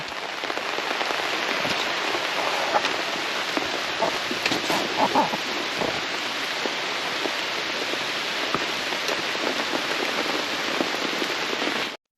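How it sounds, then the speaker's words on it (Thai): Heavy rain pours down steadily on a surface beside a forest stream where someone is fishing, a dense, constant hiss lasting throughout without pause. "ฝนตก ฝนตกมาแล้วครับ"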